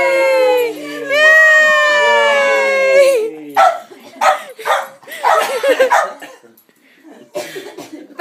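A dog barks, yelps and whines close by while struggling to climb out of a box, with high whimpering cries early on, then a run of short, uneven sounds and scuffling.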